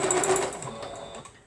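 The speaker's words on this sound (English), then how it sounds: "we're going to start sewing it down" A sewing machine stitches quilt pieces together in a rapid, steady mechanical chatter, close and continuous with no talking.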